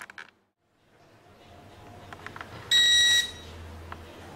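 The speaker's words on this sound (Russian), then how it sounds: "Так, сработал зуммер." A short, shrill electronic buzzer from a multicooker sounds once, loud and close, amid faint background noise and a few clicks.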